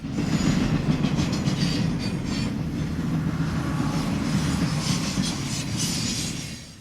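A TVLT freight train rolls past at Berea, running Pittsburgh–Philadelphia bypass–Kearney, New Jersey, a loud, steady close rumble of rail cars with continuous clickety-clack and wheel hiss throughout, easing slightly at the end.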